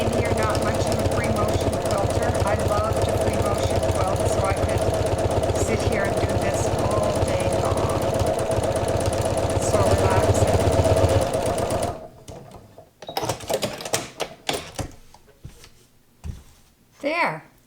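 A sewing machine runs steadily at close range while free motion quilting wavy lines on a sea glass greeting card, a loud continuous whirring that stops partway, followed by handling noises and brief talk.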